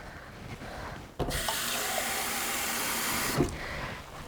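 Water pours into a pan in a steady, loud stream for about two seconds, starting abruptly after a quiet moment and then cutting off.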